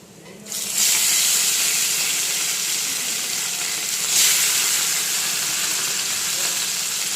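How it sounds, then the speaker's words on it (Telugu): Fish pieces hit hot oil in a pan and burst into a loud, steady sizzle that holds for several seconds, swelling briefly midway as more spatters, with no talking over it. "ఈ 2 ముక్కలు మంచిగా వేగనివ్వండి"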